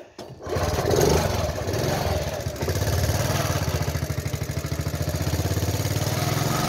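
Honda Novio moped engine starting up and then idling low and steady, with a fast, even putter close by and faint voice traces.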